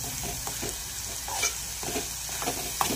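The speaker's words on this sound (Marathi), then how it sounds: "तर याला परतून घ्यायचं आहे 2 ते 3 मिनिटं" Green chili paste sautéing in hot oil in a pan for a chicken dish, a steady close sizzle with small stirring scrapes and a few brief clicks, with no talking.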